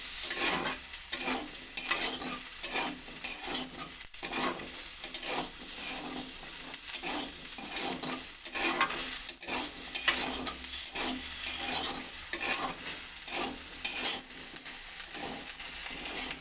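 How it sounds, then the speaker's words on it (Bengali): Potato curry with chilli powder, green chillies and spices being stirred in a pan, a steady run of scraping strokes over a continuous sizzle, close and even throughout with no talking. "লঙ্কা গুঁড়োটা দিয়ে দিয়েছি একসঙ্গে মিশিয়ে নেব"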